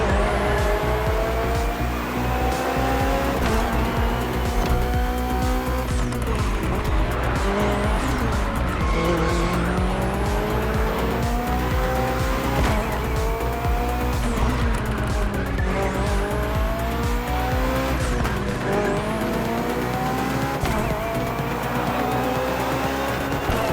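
BMW Hybrid V8 race car in The Crew Motorfest, its engine roaring steadily throughout with rising and falling revs through repeated gear shifts, tires squealing and skidding in corners, no talk.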